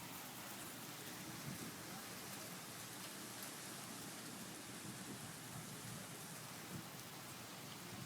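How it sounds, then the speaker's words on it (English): Heavy rain pours down in a thunderstorm, a dense, steady hiss of water drumming on surfaces with no breaks, close and enveloping. "It is raining so hard."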